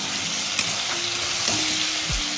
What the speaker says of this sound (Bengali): একটু নাড়াচাড়া করে দেবো